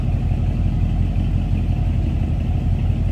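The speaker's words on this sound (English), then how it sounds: "a little rumble coming out of that 350." A 1969 Buick Skylark Custom convertible's 350 V8 idles through dual exhaust, giving a steady low rumble that sits close and loud throughout, with no talking.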